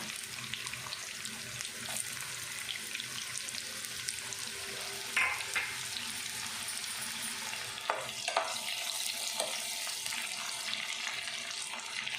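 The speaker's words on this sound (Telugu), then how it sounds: "ఇప్పుడు సన్నగా కట్ చేసి ఉంచుకున్న ఆనియన్, పచ్చిమిర్చి వేసుకోవాలి." Thinly sliced onion and green chillies sizzle steadily in hot oil for Gongura boti curry, a dense continuous crackle with a few brief scraping stirs of a spoon near the middle and toward the end, no voices.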